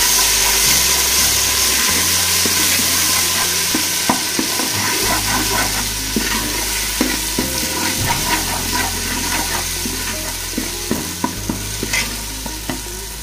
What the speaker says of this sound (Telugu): ఇందులో అల్లం వెల్లుల్లి ముద్ద వేసుకొని పచ్చి వాసన పోయే వరకు వేయించుకోవాలి